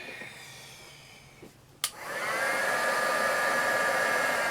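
A hair dryer switches on with a click and runs as a steady, loud whirring blow, drying paint on a decorated trinket box after a quieter stretch of room noise.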